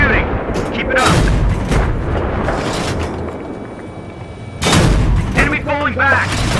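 Heavy gunfire and booming cannon blasts from an M1 Abrams tank crew in combat, loud and continuous, with sharp bursts near the start and again around the middle, over a dense battlefield din with voices shouting.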